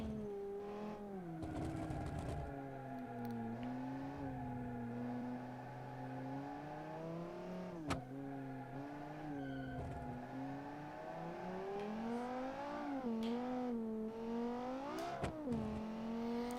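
A race car engine in BeamNG, one of the analogue supercars in a race, revving and shifting through its range, the tone sweeping up and down steadily and closely with brief clatters and gear changes, fairly quiet overall.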